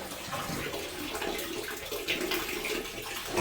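Water rushes steadily from an outdoor water line, a continuous splashing hiss with slight surges, close by and alone.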